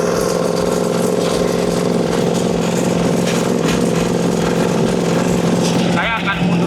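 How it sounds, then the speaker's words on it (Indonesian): Twin-cylinder 25 HP diesel hand plough tilling very hard soil, a loud, steady engine drone with mechanical clatter throughout, someone talking over it. "Dengan daya mesin diesel konfigurasi Pitwin 25 HP"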